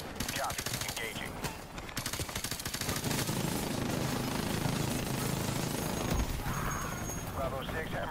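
Rapid automatic gunfire rattles in bursts in the video game Modern Warfare Remastered, dense and loud through a firefight, with radio-style voices talking over it.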